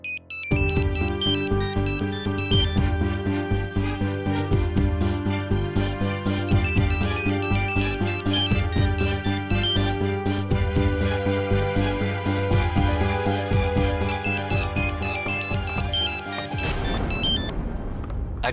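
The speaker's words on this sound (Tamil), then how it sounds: "உங்கள் ஃபோன் ரொம்ப நேரமாக ரிங் ஆகிட்டு இருந்துச்சு சார்" A mobile phone ringtone plays as a bright, repeating electronic melody that runs loud and unbroken for most of the stretch, alone with no talking, then stops near the end.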